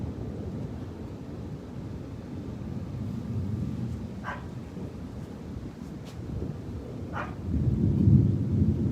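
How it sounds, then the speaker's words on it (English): Thunder rumbles low and continuous under wind and rain in a strengthening beach thunderstorm, growing louder toward the end, with a couple of brief higher yelps from a dog in the distance. "The storm is getting stronger and stronger."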